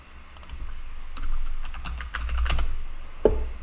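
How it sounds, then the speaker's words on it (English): Fast, irregular bursts of keystrokes clatter on a computer keyboard while someone writes web development code. The clicks are close and crisp, ending with one sharp, louder tap. "I'm bragging about my typing speed"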